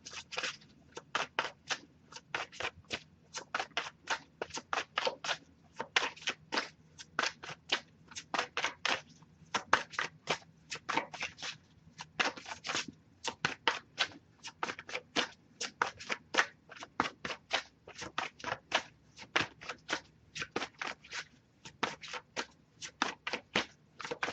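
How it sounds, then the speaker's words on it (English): Tarot and oracle cards are shuffled by hand in steady, quick bursts of soft papery riffling and tapping, close and fairly quiet, repeating without pause and with no talk. "if I shuffle for a while without anything coming up, I'll just move on to the next Oracle deck"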